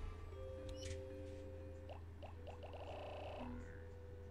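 In the Pikmin video game, a frog creature makes a quick series of chirpy, rising electronic croaks over a steady background hum, fairly close and clear, with no talking.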